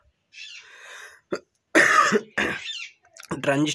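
A man with a sore throat coughs in several short harsh bursts separated by pauses, close and fairly loud, with some voiced sounds between.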